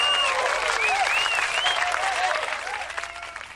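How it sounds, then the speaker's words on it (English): A crowd applauding steadily, with whistles and cheers over the clapping, easing off slightly near the end. "round of applause to him"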